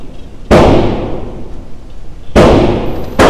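Two sharp, loud gunshots from a Sig P322 pistol with a thread adapter at an indoor shooting range, each a sudden crack with a fading echo, a third shot beginning just at the end.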